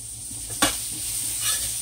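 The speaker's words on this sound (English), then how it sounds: "And I'm sauteing my veggies over there" Peppers and onions sauteing in about a quarter cup of oil for stir-fried chicken and vegetable ramen, giving a steady close sizzle with a sharp stir or scrape near the start and another swell of frying toward the end.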